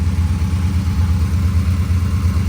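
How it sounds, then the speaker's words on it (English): Engine of a square body truck running on Holley Sniper fuel injection, a steady deep rumbling idle, loud and close with no talk. "But this is the most accurately this engine's ran in a long time."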